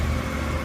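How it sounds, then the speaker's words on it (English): A Suzuki GSX-8S motorcycle engine, freshly filled with 10W40 oil, runs at a steady low idle, a close continuous rumble with no voices. "With the new oil in the engine, start her up and run her for 3 minutes."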